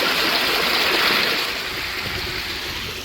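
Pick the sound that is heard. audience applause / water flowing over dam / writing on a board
water flowing over dam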